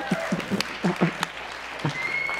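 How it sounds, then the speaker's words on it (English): Conference audience at the Abundance 360 event breaking into scattered applause, a few separate bursts of clapping spread across a couple of seconds rather than a sustained ovation, fairly near and moderately loud. "I love how Peter Diamandis has to beg for applause for the Fountain of Youth."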